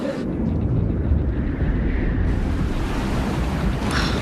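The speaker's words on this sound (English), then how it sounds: "Mid-afternoon, the wind started to pick up." Strong wind blowing over open sea with waves and surf, a steady loud roar with wind buffeting the microphone throughout, heard from aboard a boat.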